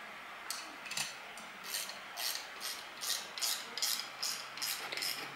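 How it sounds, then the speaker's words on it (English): Bolts on boss airbag assembly plates being tightened by hand in a crisscross pattern, giving a series of about ten short, even ratcheting rasps close by, repeating roughly every half second with brief pauses. "you cross them over, as you can see, swapping from side to side in a nice even tightening fashion"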